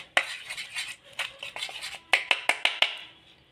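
Spoon clinks sharply against a bowl while sour yogurt marinade for sarpunti fish barbecue is mixed, a quick series of bright metallic taps and scrapes, close and fairly quiet, with no talking.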